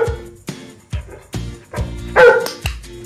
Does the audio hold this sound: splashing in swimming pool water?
no